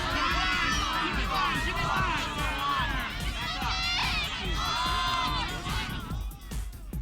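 Spectators at a women's college ultimate frisbee championship final loudly protesting an out-of-bounds call, a dense, sustained roar of shouting and jeering voices that drops off near the end.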